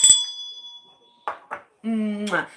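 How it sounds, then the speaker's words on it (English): A single bright bell ding rings out and fades over about a second, followed by a few brief voice sounds. "Let me ring the bell."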